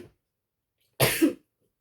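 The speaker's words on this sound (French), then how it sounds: "Excusez-moi, je vais éternuer." A woman sneezes once, close and sharp, a single abrupt burst after a moment of silence.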